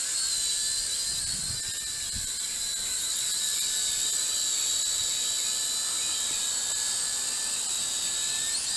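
A WLToys Q222G FPV quadcopter flies overhead with a steady, high-pitched whining buzz of small propellers and motors, close and continuous, with no speech.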